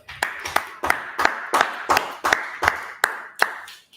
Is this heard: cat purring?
no